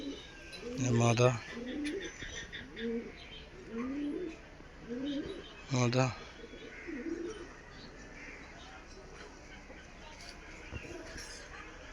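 Several pigeons, including a black nafta pigeon, give soft, repeated low coos in short rising phrases, close by, with a person talking among them.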